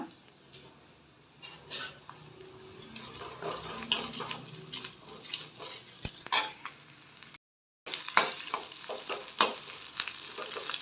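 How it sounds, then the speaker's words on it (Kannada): Garlic, ginger, Byadagi chillies and curry leaves frying in a pan, with uneven crackling sizzle and repeated clattering stirs of a utensil against metal, briefly cut to silence midway. "ಈಗ ಇದನ್ನ ನೀಟಾಗಿ ಫ್ರೈ ಮಾಡ್ಕೊಳ್ಳೋಣ"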